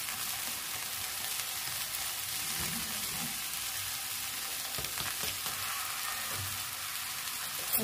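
Parwal (pointed gourd) and potato bhujiya frying in a pan, a steady close sizzle running throughout with occasional soft stirring scrapes, no voices.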